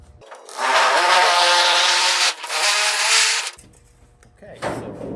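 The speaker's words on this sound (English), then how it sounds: "this is a DCS 494 14 gauge cordless shear. I'm going to use this and cut it along that line." A DeWalt DCS494 14 gauge cordless shear cuts along a line in sheet metal, a loud close buzzing motor with steady chattering that runs about three seconds with a brief dip, then stops before a short quieter burst.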